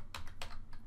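A few quick, faint key clicks on a computer keyboard as a web address is typed, close and soft over a low steady hum.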